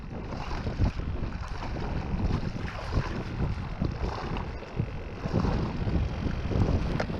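Wind blows steadily across open water during kayak fishing, a loud continuous rush with gusty buffeting on the microphone and no talk.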